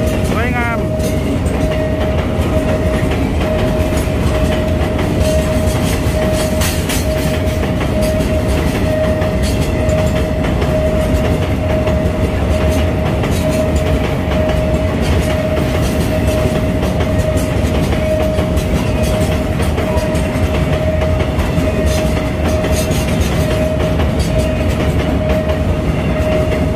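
An Alsthom 4223 diesel locomotive hauls an oil tank train past the Phaya Thai crossing in Bangkok, a steady loud rumble of engine and wheels with rail clatter and a sustained horn-like tone throughout, a voice talking over it.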